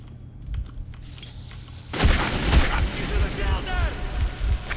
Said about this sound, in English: I'm considering just lob a grenade his way.